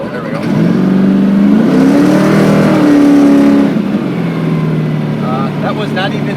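A 1972 Dodge Challenger with a 426 HEMI accelerates hard, its loud engine climbing in pitch with tires spinning, then the roar falls back to a rumbling idle as people talk nearby.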